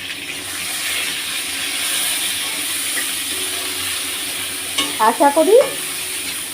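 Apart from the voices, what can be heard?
brinjal frying in pan with green chilli and salt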